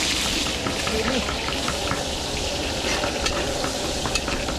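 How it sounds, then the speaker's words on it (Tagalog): Garlic sautéing in hot oil as a base for beef caldereta in a catering cook's kitchen, heard as a close, continuous sizzle with scattered crackles and clinks and faint voices in the background. "magigisa na para sa beef caldereta, bawang"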